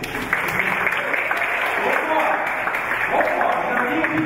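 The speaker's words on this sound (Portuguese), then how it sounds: "Uma salva de palmas para vocês." Crowd at a motivational coaching talk applauding, a dense, steady wash of clapping across the room, with voices over it.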